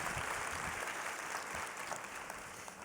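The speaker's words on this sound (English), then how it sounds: "Round of applause for that." Audience applause after a chef's dish is praised at the Borlaug Dialogue culinary session, a steady, fairly faint wash of clapping throughout.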